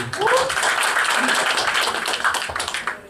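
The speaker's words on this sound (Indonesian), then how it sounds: "mari kita tepuk tangan bagi Tuhan dulu" A church congregation claps together, a brief burst of mixed applause heard alongside a voice or two in the room.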